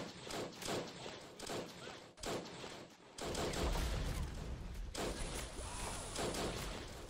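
World War I battle in the video game Battle of Empires 1914-1918 erupts with rolling rifle and machine-gun fire and heavy artillery impacts, dense and loud, with a sharp swell of rumbling explosions midway.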